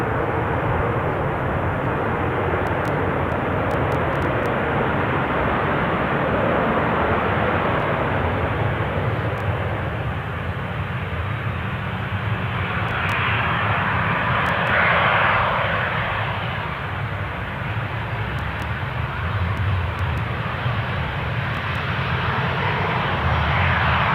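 A Ryanair airliner pushing back at Newcastle airport while another aircraft rolls in, a continuous loud jet engine roar and rumble that swells slightly midway and holds steady throughout.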